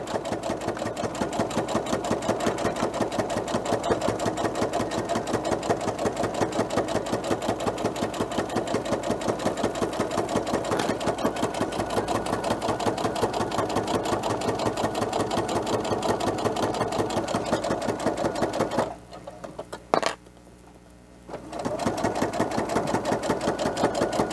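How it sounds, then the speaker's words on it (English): A sewing machine stitches a cloth face mask with a pocket and nose piece, back-stitching over a stress point, a steady rapid mechanical whir running loud and close throughout, with a brief pause near the end before resuming. "I will back stitch over it a few times and then continue to sew to the end"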